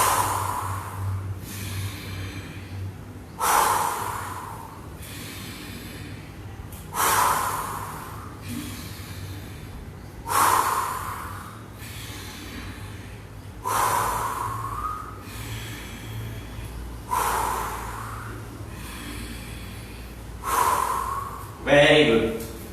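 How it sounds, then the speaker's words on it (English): Deep breathing exercise in a live yoga session: forceful nasal and mouth exhalations repeat at a steady rhythm roughly every three to four seconds, close and clear over a low background hum. "Breathe out from mouth."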